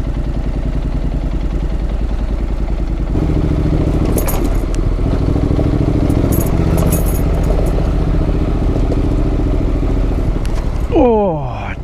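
A Honda NC750X motorcycle rolls along a sandy, riverbed-like adventure track, its engine a steady close drone throughout, with a rising rev climb near the end.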